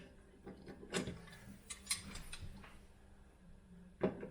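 Wrench clicking and scraping against the flats of a Pfister kitchen faucet cartridge's brass retaining nut, a few faint metallic ticks and taps close by, sparse and irregular against a quiet background.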